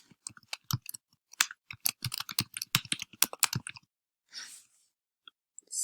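Quick bursts of typing on a computer keyboard, a close, dry patter of keystrokes with uneven rhythm, then a pause and a soft brushing sound near the end.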